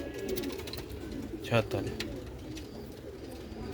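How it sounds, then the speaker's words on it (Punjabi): Sialkoti rooftop pigeons with their chicks give one short, low coo partway through, close by, amid steady background noise while people talk. "ਇਹ ਕਬੂਤਰ ਹੈ ਇਹ ਮਾਦੀ ਇਹ ਬੱਚੇ"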